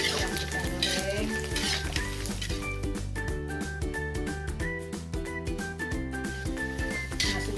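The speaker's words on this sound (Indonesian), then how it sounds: "Harus disemburin minyak panasnya ya ke kerupuk kulit yang kita goreng." Skin crackers frying in hot oil while the oil is spooned over them, a dense steady sizzle with metallic scraping and stirring clatter throughout.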